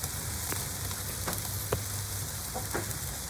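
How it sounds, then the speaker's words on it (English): Beef flank steak sizzling over a charcoal barbecue, a constant close hiss broken by a few sharp pops and crackles spaced across the moment, no voices over it. "starting to get some sizzling around the meat"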